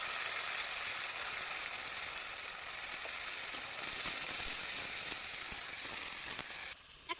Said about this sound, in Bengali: একটু উঠিয়ে রাখবো, আলগুলা ভেজে নেব।